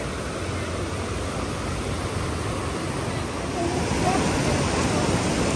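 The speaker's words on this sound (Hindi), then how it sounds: "नदी का बहाव बहुत तेज है" The fast-flowing Beas River in Old Manali, Himachal Pradesh, gives off a loud, steady rushing roar of torrential water that swells slightly toward the end.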